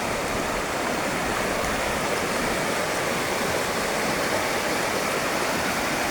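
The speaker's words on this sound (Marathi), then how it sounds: "ही अशी ओहळ इकडे टर्न मारते, तिकडनं सुद्धा ती एक धबधब्याची ओहळ येते." A waterfall-fed stream near Mumbai rushes over rocks in a continuous, loud, even roar that fills the scene without any voices.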